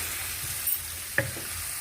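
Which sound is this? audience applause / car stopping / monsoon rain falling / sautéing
sautéing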